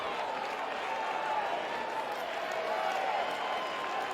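A college baseball crowd at Swayze Field applauds and murmurs on a clear evening in the 9th inning of Vanderbilt vs Ole Miss, a dense steady wash of clapping and voices, with a commentator speaking over it.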